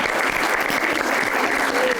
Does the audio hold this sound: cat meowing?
no